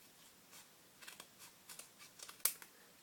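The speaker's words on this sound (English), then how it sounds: "I do recommend that you use some scissors for this as opposed to your cutter." Scissors snip through die-cut paper letters in a series of small, faint cuts, close up and quiet, with one sharper snip near the end.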